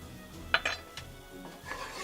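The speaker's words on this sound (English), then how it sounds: "We're whisking in the butter and flour, and we just want to cook out that raw flour taste." Butter and flour being whisked together in a pan for a bechamel, with a couple of sharp metallic clinks of the whisk against the pot and soft stirring scrapes, close and moderately quiet.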